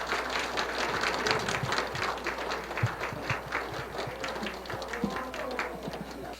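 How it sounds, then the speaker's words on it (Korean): Congregation applauding in welcome as a pastor comes forward at a church's Holy Week special dawn prayer service, steady dense clapping filling the room with some voices mixed in. "환영합니다 하는 큰 박수 보내드리겠습니다"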